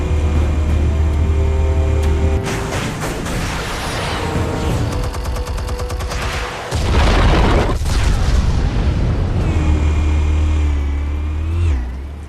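Explosive charges detonate in the Batman Telltale video game, a loud broadband boom with rumbling low end that swells and shifts over about twelve seconds, layered with crackling debris and a mechanical whine fading at the end.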